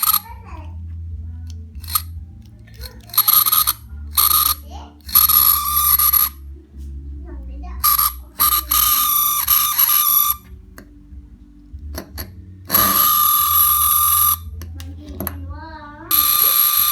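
A windshield washer fluid pump motor whines in loud, high-pitched bursts that start and stop repeatedly, close up, with a low hum and faint voices in the background.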